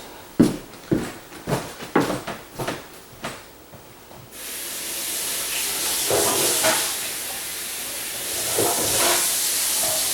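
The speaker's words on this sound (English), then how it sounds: "So quickly rinse off my hands." A few sharp knocks and clatters come first, then a kitchen tap is turned on and water rushes in a steady, close hiss while hands are rinsed.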